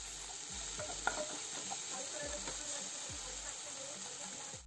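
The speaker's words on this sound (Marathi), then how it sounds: "आता टोमॅटो नरम होईपर्यंत परतायचं" Chopped tomatoes sizzle softly in a pan while being sautéed and stirred for sevai upma, with faint scraping strokes of a spoon over a steady frying hiss.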